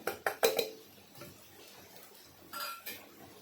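Spices stirred into a pot for egg biryani, with a few sharp metal clinks of a spoon against the pot in the first second, then quieter scraping and stirring, and another clatter near the end.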